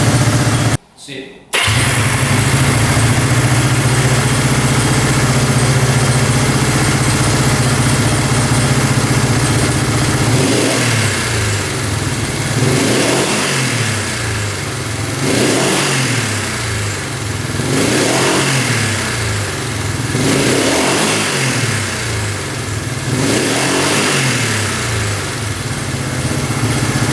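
A motorcycle engine runs and revs in repeated swells, with small pops and crackles from the exhaust pipes, close and loud, after a brief silence at the start.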